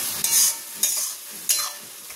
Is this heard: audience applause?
no